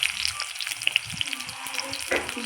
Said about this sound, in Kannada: ಎಣ್ಣೆ ಕಾದ್ಮೇಲೆ ಒಂದು ಗೆಡ್ಡೆ ಈರುಳ್ಳಿ ಹಾಕೋತಾ ಇದ್ದೀನಿ.